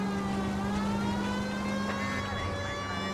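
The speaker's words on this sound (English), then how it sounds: "because I got the siren on" A police siren in a driving video game wails steadily and loudly throughout, with a constant tonal whine over engine-like noise and no pauses.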